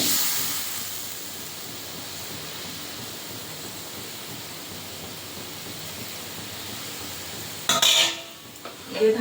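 A pot of pointed gourd simmering after a splash of water, giving a soft steady hiss of steam and faint bubbling that holds evenly, then a brief louder clatter near the end.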